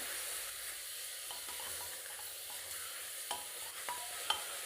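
Mutton sautéing with onions in hot oil, a soft steady sizzle with occasional light stirring scrapes and clicks toward the end, close and fairly quiet, no one speaking.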